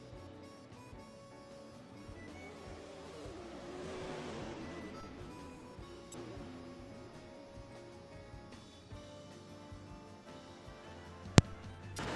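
Drag race cars at a Top Sportsman points race make a distant engine roar that builds to a swell at the launch and then fades. It stays fairly faint, with a sharp click near the end.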